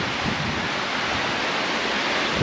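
A river running high and fast after heavy rain at a wild campsite, a steady, loud broadband rush of water with no pauses, close by and alone without voices.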